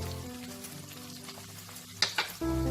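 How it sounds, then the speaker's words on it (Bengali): Marinated chicken pieces frying in a pan with onions that have already turned translucent, a steady sizzle with a few sharp clatters near the end and a louder burst of frying as the pieces go in. "চিকেনের পিসগুলো দেব। চিকেনটা যেটা ম্যারিনেট করে রেখেছিলাম, গ্রেভিটা দেবো না, পিসগুলো ওটা থেকে তুলে তুলে দিয়ে দেবো।"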